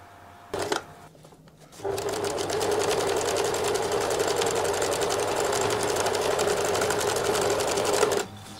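Sewing machine topstitching slowly around a coat tab, a close, steady mechanical whir running continuously for several seconds after a brief start-stop, with no talk.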